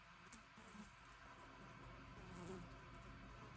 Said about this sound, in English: So there's two flies buzzing right around my camera.